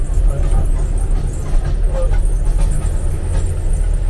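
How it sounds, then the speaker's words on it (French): A car drives past on a busy street during a tourist walk, its engine rumble steady and fairly loud over continuous traffic and crowd background noise. "Attention à la voiture."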